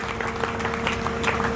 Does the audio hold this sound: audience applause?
yes